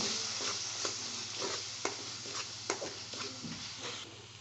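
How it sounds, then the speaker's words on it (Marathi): Turmeric and red chili powder fry in a pan with a soft steady sizzle, while a spoon stirs and scrapes in sharp intermittent clicks close by. "हळद लाल मिरची पावडर परतून घेऊ"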